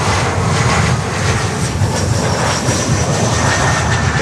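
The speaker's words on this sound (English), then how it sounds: "There we go, Embraer 195." Embraer 195 jet at Miami airport, a strong, steady engine roar with slight pulsing swells in loudness, heard alone without voices.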